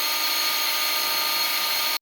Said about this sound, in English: I got my drill pump hooked up to the main fuel line that would go to the fuel pump, and we will siphon the rest of this out of